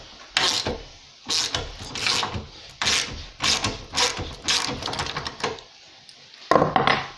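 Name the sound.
pressing out a car suspension silent bloc bushing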